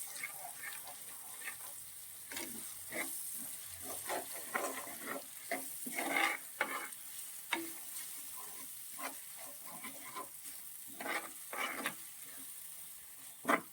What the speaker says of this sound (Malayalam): ഇനി ഇത് നന്നായിട്ടൊന്ന് എണ്ണയ്ക്കകത്ത് കിടന്ന് നന്നായിട്ടൊന്ന് മൂക്കണം